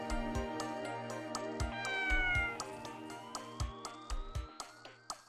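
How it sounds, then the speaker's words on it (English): A cat meows in the video game Persona 2: Eternal Punishment, with drawn-out calls layered over game music carrying regular thumping beats and rising tones. "What a cute cat."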